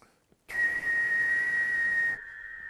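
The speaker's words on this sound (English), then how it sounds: "Everybody whistle, ready?" Whistling from a group of people during a music master class on air delivery to an instrument, one steady sustained high note held together for about two seconds after a quiet start.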